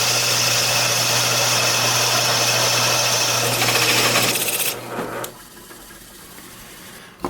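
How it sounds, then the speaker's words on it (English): An antique Rotex adjustable hole saw cuts into wood, giving a steady close mechanical whirring with a low hum that runs for several seconds, then drops to a quieter rumble. "It's an adjustable hole saw, and we're going to see how it works."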